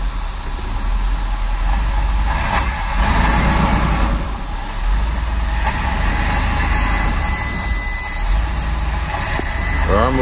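An old Travco RV engine, parked for 35 years, runs as the vehicle starts moving, giving a steady, loud, close rumble throughout with a few swells and a faint high whine.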